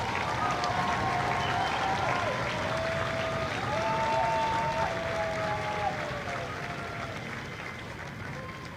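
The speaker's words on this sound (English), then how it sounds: "please join me in a round of applause for the company staff of Company N." A large audience applauds at a Marine Corps recruit graduation ceremony at MCRD San Diego, a sustained, even wash of clapping with faint tonal sounds running through it.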